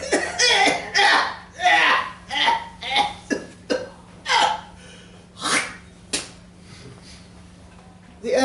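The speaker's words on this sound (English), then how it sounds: "The Emperor coughs" An elderly emperor coughs repeatedly in a series of wet, sputtering bursts, some rough and throaty like hiccups or gurgles, spaced irregularly over several seconds and heard up close.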